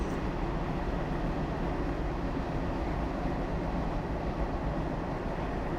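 Metro trains in the Metro Simulator 2020 video game, a steady dense rumble of rolling wheels and motor drone running loud and continuous throughout, with no talk.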